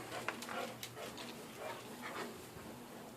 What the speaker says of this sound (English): I got another dog out there just barking